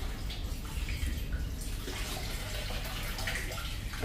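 Water flowing weakly into a water tank after a float switch was reversed, a steady, close rushing and splashing stream with no talking.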